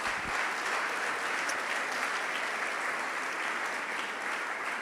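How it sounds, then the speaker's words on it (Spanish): Steady audience applause, dense and even, heard moderately loud without any talking. "Un aplauso muy fuerte para ella."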